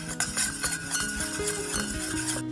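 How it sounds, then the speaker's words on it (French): A spoon works through a homemade mixture just after olive oil goes in, giving close, irregular scraping and clinking strokes against the bowl with no voices. "Alors voilà, je rajoute l'huile d'olive, donc 35 grammes. Voilà, je vais bien mélanger."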